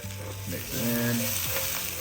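Steak stirred into a sizzling frying pan with cumin, red pepper flakes, salt and pepper, a steady close fry with soft scraping strokes and no talk.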